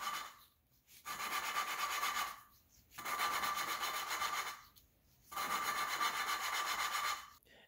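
Steady gritty rubbing strokes of engine valves being hand-lapped with lapping compound on a Honda B18B1 engine, three long back-and-forth bursts separated by short pauses, close and moderately loud with a scratchy, abrasive texture.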